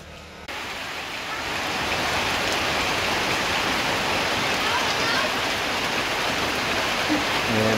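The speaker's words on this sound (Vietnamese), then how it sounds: "mưa cũng vừa tới luôn cả nhà ơi" Rain starts after a brief moment in a rural Vietnamese countryside setting, then settles into a loud, steady, dense hiss of downpour that continues to the end.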